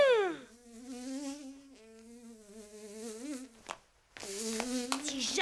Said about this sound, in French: Oh, va-t'en la mouche!